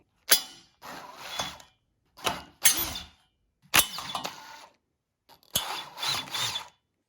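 Screws being removed from treadmill handrails with a hand tool: close, intermittent ratcheting and scraping bursts, each starting with a sharp click, separated by brief silences.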